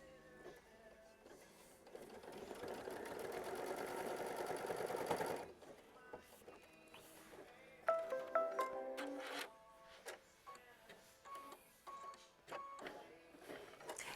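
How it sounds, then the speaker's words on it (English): Sewing machine stitching quilt block fabric, a fast mechanical whir for a few seconds, then short stop-start bursts and clicks, close and moderately quiet. "we're going to sew it down with machine stitch step 11"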